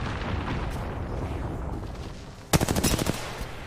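Video game gunfire erupts as a loud rapid burst of automatic shots near the end, following a few seconds of muffled, noisy background.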